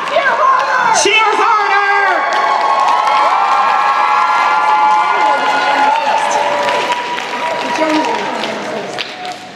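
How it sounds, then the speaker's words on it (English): Convention crowd cheering and whooping at a cosplay masquerade awards, loud sustained shouts and applause filling the hall, with an announcer's voice cutting through near the start. "Cheer harder!"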